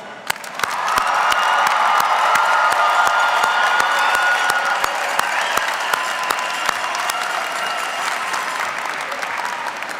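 A graduation audience bursts into loud applause after a brief quiet start, thousands of hands clapping in a thick, even roar with scattered cheers, holding steady at full strength for the rest of the stretch.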